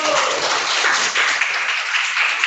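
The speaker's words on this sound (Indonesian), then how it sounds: "tepuk tangan untuk kelompok 1" A classroom group claps together in steady, dense applause for group 1, close and even throughout, with no talking over it.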